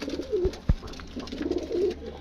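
Soft, low pigeon coos murmur in short rolling phrases, with a couple of sharp knocks in between.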